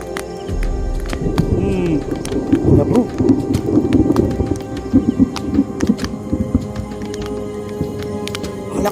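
A thunder and lightning storm rumbles loudly, low rolling thunder and steady rain filling the whole stretch, with scattered sharp cracks and some faint voices underneath.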